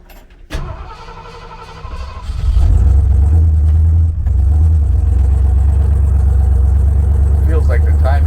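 The 1979 Ford F250's 351M V8 is down on power, with retarded timing. It cranks and catches, then swells into a loud, deep, strained roar as the pedal is floored, dips once, and keeps droning heavily up close.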